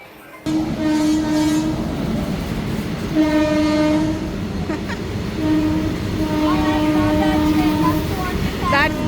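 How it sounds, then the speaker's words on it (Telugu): A goods train rumbles past loudly and close at Kadapa railway station, sounding several long horn blasts over the heavy rolling clatter of wagons. "That's goods train."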